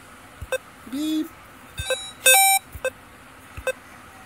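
Short electronic beeps and blips from the Chrome dino video game sound as the dinosaur jumps, in a sparse irregular pattern of loud, clean tones with brief gaps between them.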